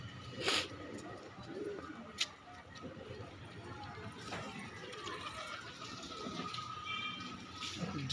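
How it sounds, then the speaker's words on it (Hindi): Madrasi pigeons coo softly in a low, rolling murmur amid background chatter and faint trickling water, with a couple of sharp clicks. "भाई ये 10 कबूतर है सेल के लिए।"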